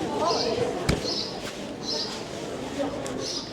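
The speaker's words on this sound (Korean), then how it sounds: "어머 뭐 새소리 들려." Small birds chirp on a town street in Zell am See, Austria, giving short, bright, repeated calls at a fairly steady pace. Street ambience fills the background, and a few sharp knocks sound nearby.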